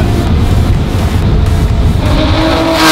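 Loud modified street-legal Aston Martin car driving, its engine roaring close and steady before rising sharply in pitch near the end as it accelerates hard.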